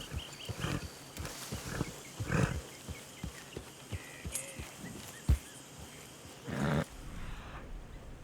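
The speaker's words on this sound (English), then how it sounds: "I can hear pigs." Grunting and snorting pigs in the video game Red Dead Redemption 2, with scattered thuds and rustles, fairly faint and irregular.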